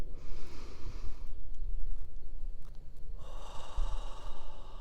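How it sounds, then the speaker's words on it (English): A deep breath drawn in through the nose and let out through the mouth during a guided relaxation, heard as a long, close, airy inhale followed by a slower, audible exhale with no talking. "Take one more deeper breath this time."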